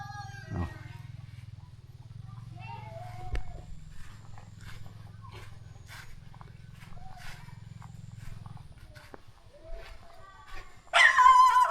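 A dog barks a few times at intervals around a rural Thai village home, fairly distant, over a steady low drone, with a sharper, louder burst of sound right at the end.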